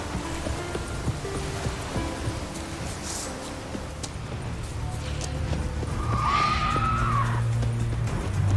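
Neighing and hoofbeats from Roach, the horse in The Witcher 3, with a loud whinny rising near the end over a steady background of game ambience and clatter.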